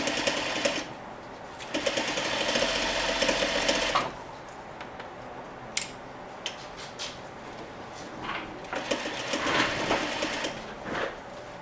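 Sewing machine stitching a chair slip cover, two running bursts of steady rapid whirring a few seconds each, separated by a quiet pause with small handling clicks and fabric rustle, close and without speech.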